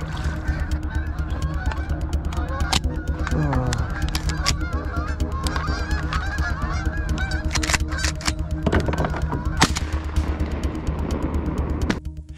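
A flock of wild geese honks continuously in a swampy Australian setting, many overlapping calls near and far, punctuated by sharp bangs that sound like gunshots.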